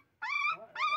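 Puppies whimper in two drawn-out, high whining cries close by, each rising and holding before fading, while they are being fed egg with fried beans.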